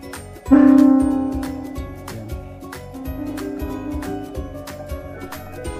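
A Casio MT-540 electronic keyboard plays through a small mono speaker: a loud sustained opening note, then a run of shorter notes and chords fading slightly.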